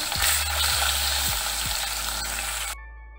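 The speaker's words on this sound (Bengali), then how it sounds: "তেলটাও ভালো করে গরম হয়ে গেছে, মাছগুলো ভেজে নেব।" Fish sizzles loudly in hot oil in a home kitchen pan, a dense, steady crackle that stays close and fills the first few seconds, then cuts off abruptly near the end with no talking.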